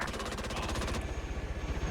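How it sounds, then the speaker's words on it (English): Rapid automatic gunfire pours at a Comanche helicopter in the military shooter Arma 3, a dense, continuous stream of loud rattling shots with overlapping bursts and no pause. "I want all forces firing on that Comanche"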